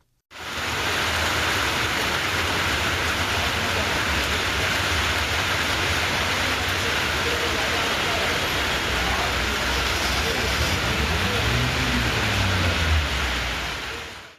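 Heavy rain pouring down on roads in Kodaikanal, a dense, loud, continuous hiss that holds steady throughout, with a faint low rumble of traffic beneath.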